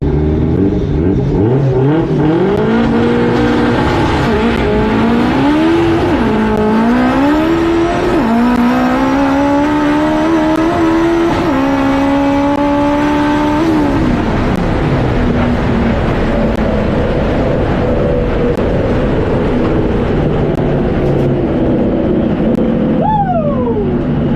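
A loud drag race car roars through a full 9-second pass, engine revving up through several gear shifts before easing off near the end.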